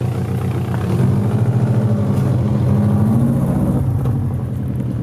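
A Subaru WRX STI converted to rear-wheel drive idles with a deep, lumpy burble, then the revs rise as it pulls away, the engine note climbing and holding close and loud before easing off.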